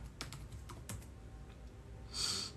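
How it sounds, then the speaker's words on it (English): Keys clatter in a few quick bursts of typing on a computer keyboard, fairly quiet indoors, with no one speaking. "I'm just typing in her information"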